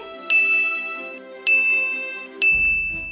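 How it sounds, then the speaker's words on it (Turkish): Three identical bright phone notification chimes ring out during Roblox Brookhaven roleplay. They come evenly spaced about a second apart, each loud, ringing and sustained, alone with no speech. "Büşra bu kadar bildirim nereden geliyor?"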